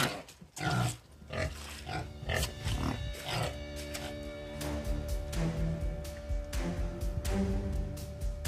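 Pig grunts on a farm raising pastured pork, near a set trap, come in a steady run of low, close snorts over rustling and handling noise, with no one speaking.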